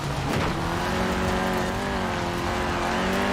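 A 1991 Peugeot 205 Rallye's small engine drones steadily under throttle in Forza Horizon 4, revving slightly and holding a raspy tone, loud and close with no voices.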